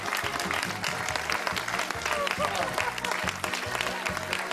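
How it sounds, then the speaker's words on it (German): Studio audience applause on the Austrian hidden-camera show Hast du Nerven, loud and steady throughout, with a rhythmic beat of music underneath. "Applaus für die Annalena!"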